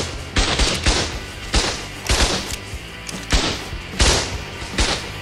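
Revolver shots ring out in Ark: Survival Evolved, about nine loud, sharp cracks fired one after another at irregular intervals of roughly half a second, close and punchy with short decaying tails.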